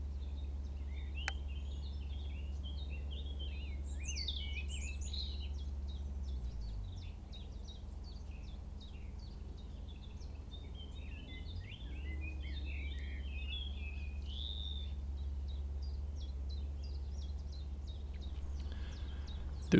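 A bird sings in bursts of bright, quick chirping phrases, faint and somewhat distant, over a constant low hum, with short pauses between phrases.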